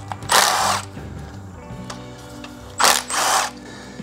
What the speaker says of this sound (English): remove the two 10 millimeter bolts here also that holds the shift cable